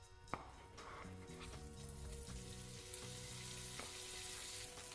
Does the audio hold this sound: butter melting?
yes